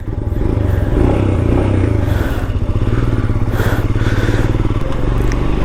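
A Royal Enfield Scram 411 motorcycle rides over bad roads with a steady, loud engine thrum and rattling clatter from the rough surface, heard up close throughout.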